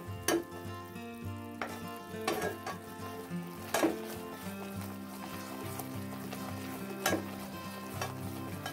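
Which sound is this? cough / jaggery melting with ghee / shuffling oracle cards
jaggery melting with ghee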